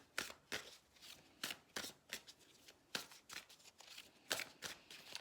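Tarot cards shuffled and handled close by: a run of crisp riffling bursts and flicks, about a dozen over five seconds, with short pauses between them and no voice.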